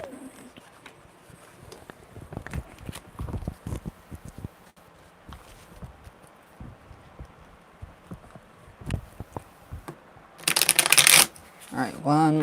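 Tarot cards being shuffled by hand, soft riffling and tapping at close range with brief pauses, ending in a louder burst of rapid riffle shuffling; a person talks intermittently.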